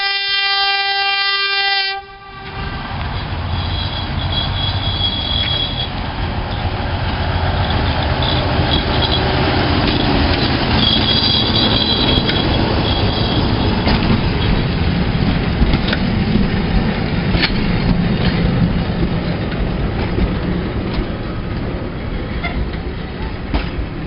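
Diesel locomotive DSC 2584 hauls a train on the Waitara Railway, opening with a loud horn blast, then a long steady rumble and clatter of the engine and wagons rolling nearby.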